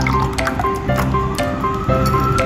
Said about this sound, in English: Pour 100 milliliters soy milk.